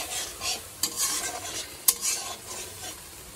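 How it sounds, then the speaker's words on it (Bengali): Spices with ginger, garlic, cumin, onion and dried chilli sizzle as they are stir-fried in a pan, with scraping spoon strokes and two sharp clinks over a steady frying hiss, close and without talk. "আর এখানে তো এই যে মশলাগুলো কষিয়ে নিচ্ছি।"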